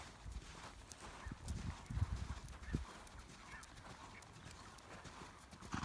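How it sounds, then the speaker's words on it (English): Horse cantering under a rider in a riding lesson, its hoofbeats a steady three-beat clip-clop close by, with a brief snort or whinny. "we'll pick up the canter on his left lead, so prepare to canter and canter"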